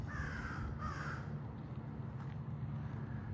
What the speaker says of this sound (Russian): И они точно так же каркают, как в вашем городе, где вы живете.